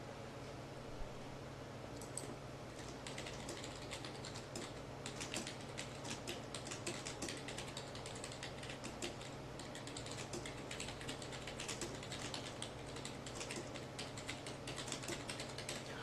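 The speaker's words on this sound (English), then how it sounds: "Okay, I just typed in you refuse to allow me to live stream" Fingers typing on a computer keyboard, a quiet, steady patter of close key clicks running continuously without talk.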